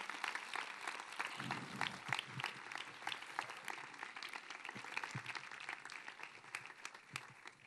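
Audience applause at a patronal town festival proclamation event, greeting artist Gema Moreno; a steady, dense crowd clapping sustained throughout, moderately distant and even.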